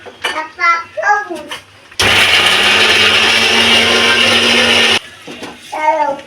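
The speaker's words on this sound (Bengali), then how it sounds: "এটা মিক্সিতে আমি এবার মিক্সি করে নেবো, পিষে নেবো বন্ধুরা" A mixer grinder grinds fried ginger-garlic paste in a loud, steady three-second burst, with speech before and after it.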